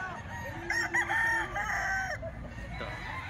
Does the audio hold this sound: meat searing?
no